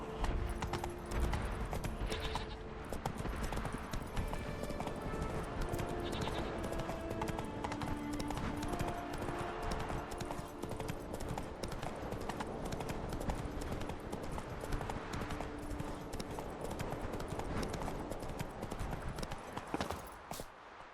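Roach, Geralt's horse in The Witcher 3, clip-clops along with steady, continuous hoofbeats set in a dense game soundscape of ambient music and background noise, with one brief whinny.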